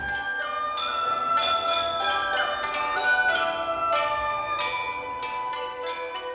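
Bells ring out at a Chinese cultural concert in the centre of a tower, a quick succession of bright metallic strikes with ringing overtones that overlap and decay, played as a melodic sequence.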